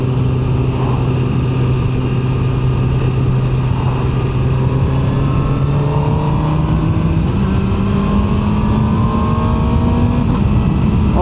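QJMotor SRK 921 RR motorcycle riding off from a motorcycle and scooter dealership, its engine note climbing through several gear changes as it pulls away, loud and continuous with no talking.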